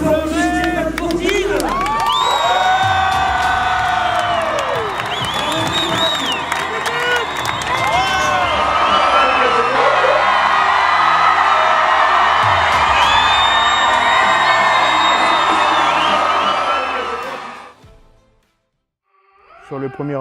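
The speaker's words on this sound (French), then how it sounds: "Je vais vous demander d'applaudir bien fort Stéphane Courtine." A crowd greets drift driver Stéphane Courtine at a drift event in New Caledonia with loud, sustained cheering, whoops, shouts and applause that fade out near the end.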